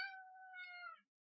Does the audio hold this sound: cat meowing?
yes